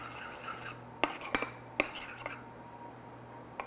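Chocolate genoise batter being mixed into melted butter in a bowl, with a few sharp clinks of a utensil against the bowl amid soft scraping and stirring, close and fairly quiet.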